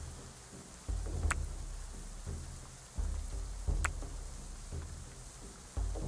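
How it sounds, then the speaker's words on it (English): Steady pouring rain in the medieval colony-building game Going Medieval, a constant wash of downpour with soft low thumps recurring every couple of seconds and no voices. "And it's pouring rain."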